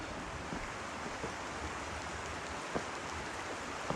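Water runs along a creek in a nature park as a steady, close, broadband rush, unbroken and with no voices over it.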